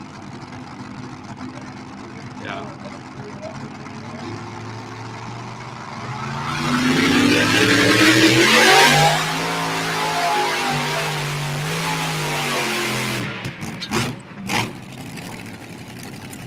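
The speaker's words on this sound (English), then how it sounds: "Can you guys hear the tractor?" Pulling tractor engine revving up from a steady idle-like drone into a rising, loud roar, then holding at a strained high pitch before cutting off, with brief talk nearby.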